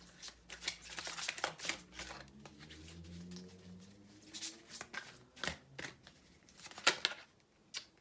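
Tarot cards are shuffled by hand for a reading, heard as soft, close, irregular riffling and slapping bursts in a quiet room. The sound is faint overall, with brief louder flurries.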